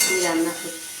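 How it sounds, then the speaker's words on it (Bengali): Potatoes and drumsticks frying in a pan make a brief, loud, close hissing sizzle, with a faint voice-like tone over it. "এদিকে আলু আর সজনে ডাঁটা ভাজছি।"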